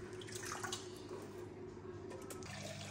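Water pours steadily into an aquarium being refilled after cleaning, a continuous rushing splash that stays at an even, moderate level throughout with no talking.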